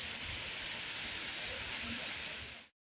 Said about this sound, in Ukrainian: у нас сьогодні знову такий дощик